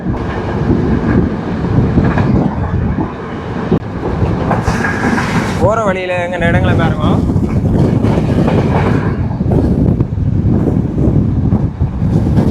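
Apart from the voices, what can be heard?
Yal Devi passenger train running at speed, Sri Lanka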